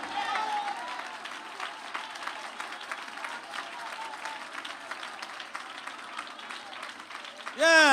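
A congregation at a Malayalam Christian sermon claps steadily, heard from mid-distance through a hall, while the preacher keeps speaking over the applause.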